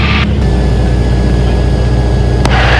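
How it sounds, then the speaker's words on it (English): A big aircraft passing over the hills near Lone Pine, heard as a loud, steady, low engine roar with a brief sharp click near the end. "There's a big aircraft flying along there."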